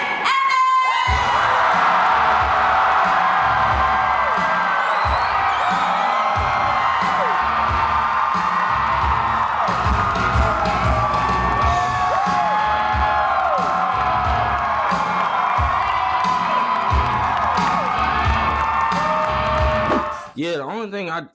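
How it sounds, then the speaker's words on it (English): A packed crowd at a comic convention panel cheers, whoops and screams for a celebrity guest's arrival, in a loud, sustained roar of shouting voices with rhythmic thumping beneath that fades out abruptly at the end. "the whole crowd went crazy"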